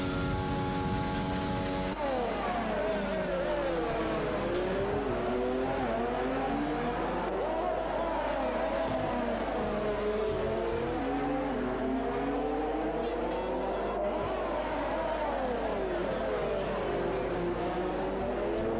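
Race cars in the F1 2020 video game roar continuously, engine pitch rising and falling through gear changes as they run close together, loud and steady throughout with brief skid-like squeals and a commentator talking over it.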